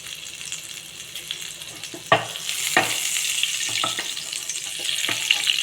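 Butter and oil heat together in a pan for a dhaba-style makhana gravy, giving a steady close sizzle with a few sharp spits and crackles over a low hiss.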